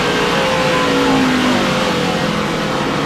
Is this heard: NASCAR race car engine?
yes